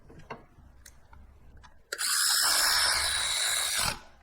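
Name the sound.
ratchet tightening spark plug coil nut, Toyota Camry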